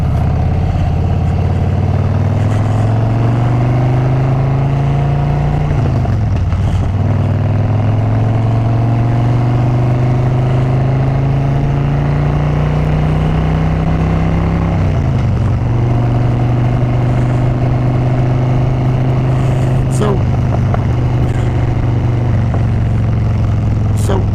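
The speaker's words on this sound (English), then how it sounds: "I have a very loud bike" A very loud motorcycle rides at steady speed, its engine droning close and strong throughout, with pitch climbing through the gears and dropping at shifts around the middle and later.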